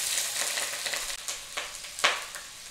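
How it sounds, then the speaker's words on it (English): Onion and hot pepper fry in hot oil for curry shrimp roti, giving a close, steady hiss and crackle with a few sharp sizzling pops as the pan is stirred. "Add the reserved onion and hot pepper."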